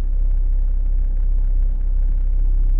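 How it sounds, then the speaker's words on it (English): A 2008 Dacia Logan MCV idling with the whole car shaking, heard from inside as a steady, heavy low rumble with no talk. "The whole car is freaking shaking"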